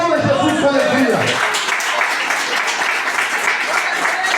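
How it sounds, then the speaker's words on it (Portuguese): A church congregation breaks into applause, a broad wash of clapping that swells right after a preacher's call and carries on steadily for a few seconds. "Aqueles que creem, aplaudam Jesus com alegria"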